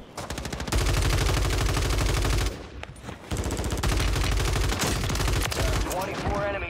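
Sustained rapid automatic gunfire in a video game, loud and continuous for a couple of seconds, a short lull, then more bursts of fire, with in-game sounds at the end.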